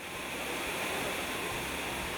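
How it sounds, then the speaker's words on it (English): Crayfish Falls, a small waterfall feeding a forest pool, pours with a steady, even rush of water that holds constant throughout, with no talk or other distinct sounds. "we come to a heavenly pool fed by a beautiful waterfall"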